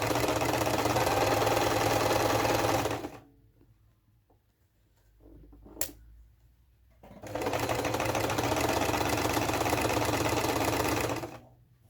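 A sewing machine stitches binding onto a patchwork quilt with batting, running in a fast steady whir for a few seconds, pausing briefly with a small click, then starting again at an even pace, close and clear with no talking.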